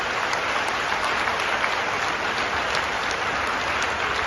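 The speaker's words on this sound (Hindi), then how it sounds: "जोर से बजाइए आप उनके लिए।" Applause from the crowd at a saints' gathering in Mumbai, a steady, dense roar of clapping that holds evenly throughout without pause, with a faint repeating high tone running above it.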